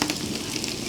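Finely chopped small carrots frying in a pan for chilli gobi while being stirred produce a brief, soft, steady sizzle with faint crackles.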